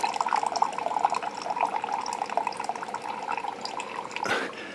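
Water drips and trickles from a leaking Keurig 2.0 coffee maker, giving a continuous wet patter with a slightly louder splash near the end, close by.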